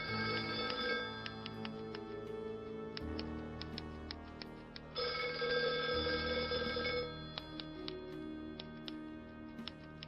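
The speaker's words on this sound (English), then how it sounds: "Suddenly the phone rang, an unexpected call at an unexpected moment." A telephone rings in the video game NoseBound, repeated electronic bell bursts in a steady pattern over a looping musical backdrop, clear and moderately loud with no talk.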